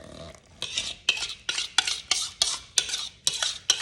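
Chocolate chip bread batter of combined wet and dry ingredients is stirred in a bowl, with a regular rhythm of wet, scraping strokes, about ten in a row, close and fairly loud, with no talking.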